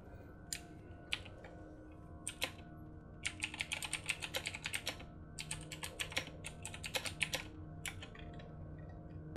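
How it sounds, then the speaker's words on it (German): Quick, irregular bursts of keystrokes on a computer keyboard, close and clear, with short pauses between clusters of taps during a World of Warcraft game session. "Ja, eine Tastatur."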